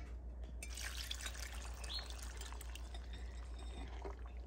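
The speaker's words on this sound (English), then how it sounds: "next we're going to add either water or broth, whatever you prefer" Broth poured into an Instant Dutch Oven for ham and bean soup, a faint, close trickle and splash of liquid running steadily for a few seconds in a quiet kitchen.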